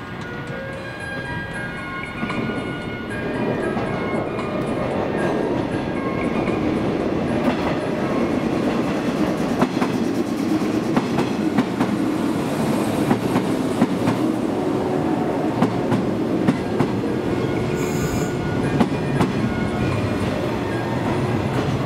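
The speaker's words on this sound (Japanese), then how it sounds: "列車が到着します。" A Sanyo Line local train of the 115 series rolls into Shinyamaguchi Station, a steady rumbling approach with rhythmic wheel clatter and brake hiss building at the platform, loud and continuous.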